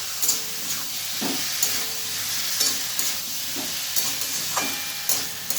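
Ground tomato is stirred in a frying pan for a papaya and chana dal dish, with a steady sizzle broken by regular scraping strokes about once a second, close and moderately loud, with no voices.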